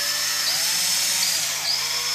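A power drill with a bit carving out rivets on an Xbox One console casing, run at slow speed as a steady, continuous high whine with no pauses and no talking.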